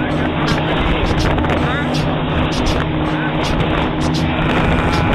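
A motorboat engine drones loud and steady aboard a launch crossing from Chacopata to Margarita, with wind buffeting and people talking over it throughout.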